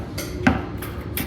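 A single sharp metallic tap from a hammer striking a screwdriver, driving out the nut of a thinline guitar during a refinish, close by with faint lighter taps around it and no speech.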